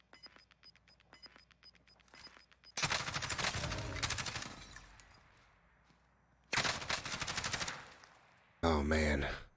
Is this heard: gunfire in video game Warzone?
yes